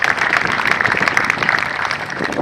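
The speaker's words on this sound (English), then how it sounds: "Clap for them." A school assembly applauding two school chaplains, a steady, dense patter of many hands clapping at even volume throughout, moderately close.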